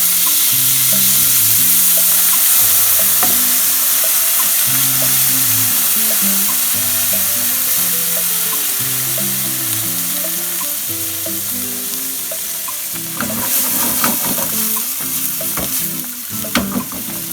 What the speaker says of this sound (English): we're gonna cook the beans